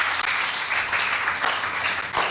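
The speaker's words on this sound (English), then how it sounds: "Make we clap for Madam Savicom." Audience applause breaking out at an outdoor broadcast event, a steady wash of clapping lasting a couple of seconds at moderate level.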